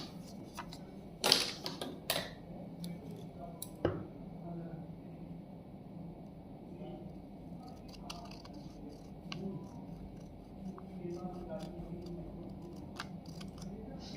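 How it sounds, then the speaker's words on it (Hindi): Scissors snip through a paper triangle along its diagonal, a few crisp close cuts near the start followed by faint rustling and handling of paper, with quiet background sounds. "ये हम यहां से काट लेते हैं"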